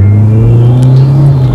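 A Peugeot 205 GTi hot hatch revs its engine close by, a loud, deep, throbbing drone that climbs slightly in pitch and holds strong throughout.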